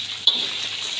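Chicken frying in a karahi, a steady bright sizzle with a soft stir or clink partway through, close and continuous.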